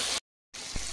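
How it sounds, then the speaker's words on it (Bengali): A little water goes into a pan of frying spices for a Bengali vegetarian taro dish, a bright steady hiss that cuts out briefly, then resumes sizzling with a soft splash. "খুব সামান্য এখন একটু জল দিচ্ছি।"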